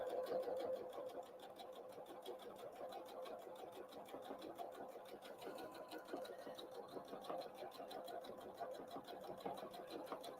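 Sewing machine stitching a Christmas tree napkin, running steadily and evenly for the whole stretch at close range, with a soft rhythmic needle chatter.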